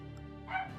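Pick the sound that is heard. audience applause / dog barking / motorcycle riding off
dog barking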